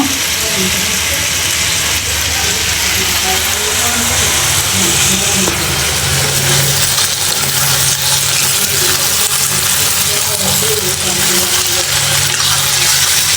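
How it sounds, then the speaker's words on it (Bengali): Steady rain falls outside a home kitchen during a power cut, a dense, continuous loud hiss with no breaks, heard alone without talk. "বাহিরে বৃষ্টি"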